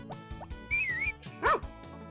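A dog gives a couple of short yips and a whimpering bark over soft, rhythmic background music, fairly quiet and brief.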